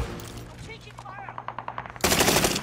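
Rapid gunfire, a string of quick shots followed by a louder, dense burst of fire near the end, with a voice briefly in the mix.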